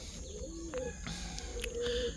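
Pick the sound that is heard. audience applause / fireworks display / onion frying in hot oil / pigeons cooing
pigeons cooing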